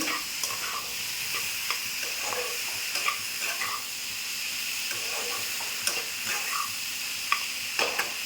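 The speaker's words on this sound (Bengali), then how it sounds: "কপি আর আলু ভেজে নিয়েছি" Cabbage and potatoes fry in oil and are stirred in a pan for a fish-head cabbage curry, giving a steady close sizzle broken by irregular scraping stir clacks throughout, with no talk.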